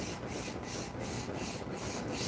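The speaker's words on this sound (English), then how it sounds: "These little sanding blocks are great tools to have because they help give you a nice flat surface when you're sanding." A sanding block rubs back and forth along the edges of wooden cutting boards in a steady rasping stroke rhythm, close and continuous with no talk.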